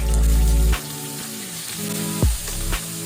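Sliced pork hits hot oil in a pan already holding sautéed onion and garlic, giving a loud, steady sizzle with a few sharp thumps and clatters, no voices.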